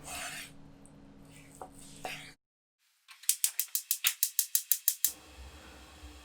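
A knife chops boiled beef into large chunks on a cutting board, about a dozen quick, evenly spaced sharp strikes, close and clear, following a stretch of quieter kitchen handling.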